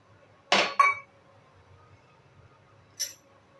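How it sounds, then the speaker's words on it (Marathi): Two quick clinks of a spoon against a mixer jar as curd goes in for mango lassi, then a single lighter clink a few seconds later, over a quiet kitchen. "आधी मिक्सरच्या भांड्यात दही घालून घेऊया"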